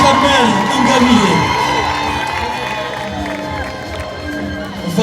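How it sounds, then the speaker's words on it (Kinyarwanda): A crowd at an award ceremony cheers and applauds loudly for a series-award winner, a dense wash of claps and shouts with a voice talking over it. "Amashyi menshi cyane."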